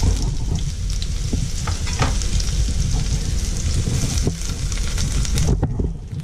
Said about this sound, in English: go ahead, throw in the garlic and your radish